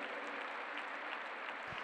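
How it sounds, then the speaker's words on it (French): Crowd applause rings out steadily at the Saut Hermès 2019 CSI5* show jumping event, a dense continuous wash of clapping from a large audience with no break. "Il sera ravi d'entendre vos applaudissements retentir."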